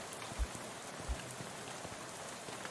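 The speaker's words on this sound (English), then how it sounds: "He smiles, then looks up and lets the rain splash on his face for a while." Rain falling in a video game, a steady soft hiss of drops on surfaces with a couple of faint low thumps, even and unbroken throughout.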